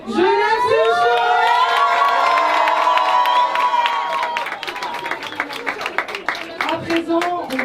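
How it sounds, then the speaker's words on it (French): A rooftop fashion show audience breaks into loud applause, cheers and whoops, with shouting voices riding over steady clapping that grows choppier toward the end. "j'aimerais un maximum d'applaudissements pour vous, le public"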